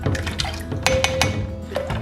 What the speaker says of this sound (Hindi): पानी मैंने डाल दिया है